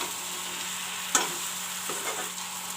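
Potato and fried broccoli are stirred in a hot pan, with a steady sizzle and a sharp spatula scrape near the middle, followed by a couple of softer scrapes.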